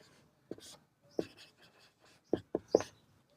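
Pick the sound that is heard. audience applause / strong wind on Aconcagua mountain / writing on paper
writing on paper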